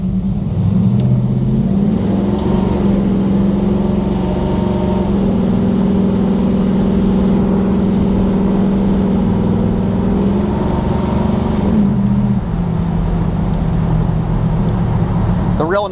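A 1969 Chevrolet Camaro SS with a 383 V8, 430 hp, and a rowdy cam and stall converter rumbles steadily at close range, its low engine drone rising and settling in pitch, with talking over it.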